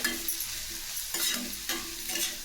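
Red chilli powder and black masala being stirred in a hot pan, a steady sizzle with three bright scraping sweeps of a spoon spaced about half a second apart, close and moderately loud.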